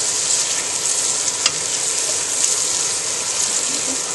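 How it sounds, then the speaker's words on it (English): Garlic cloves fry in hot oil in a home kitchen, a loud, steady sizzle with a few brief pops and stirring clicks, alone without talk. "I'm going to toss in my garlic cloves. And just give that a quick little heat through."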